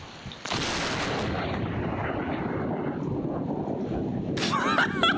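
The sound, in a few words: lightning striking a police car, on security camera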